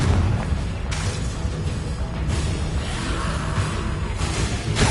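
Spell explosions in the video game Hogwarts Legacy, heavy booming blasts with whooshing bursts rolling one after another in a dense loud barrage of combat.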